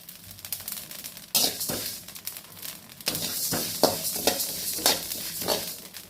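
Rice dry-roasting in a pan, stirred with a ladle that scrapes and rattles in repeated bursts over a soft sizzle, close by and fairly loud.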